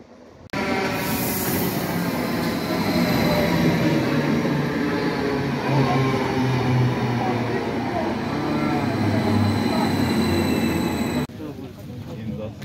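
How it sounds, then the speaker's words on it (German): Loud, steady rumble of a crowded regional train to Wismar in motion, constant low-frequency running noise with wheel and rail rattle filling the whole stretch, ending with a sudden drop in level. "Also jetzt im Zug nach Wismar"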